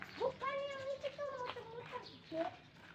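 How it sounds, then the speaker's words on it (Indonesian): A crow calls near rice fields in a village countryside, a clear harsh cawing call repeated a few times over about three seconds, fairly close, with background voices around it. "Burung gagak."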